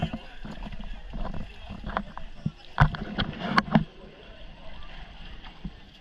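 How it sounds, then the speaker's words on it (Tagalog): A wooden boat scrapes and knocks as it is dragged away, with sharp thuds and creaks amid background voices and outdoor noise. "Ito guys, inaalis na yung bangka oh."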